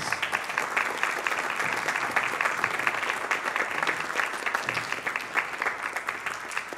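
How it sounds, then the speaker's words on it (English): Congregation applauding in church during a traditional worship service to welcome new members, a full, sustained round of clapping from many hands, steady and fairly distant throughout. "will you join me in officially welcoming our five newest members to the family with a round of"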